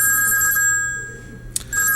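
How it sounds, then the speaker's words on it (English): An incoming phone call plays a ringtone from a coded phone app: a steady, bright electronic ringing tone that continues throughout, broken by a brief click near the end. "you should hear a ringtone"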